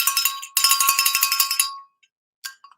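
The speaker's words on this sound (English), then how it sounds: "I'm going to ring the bell" A hand bell is rung in rapid, bright repeated strikes, two bursts of jangling ringing with a short break between, followed by a few fainter stray dings.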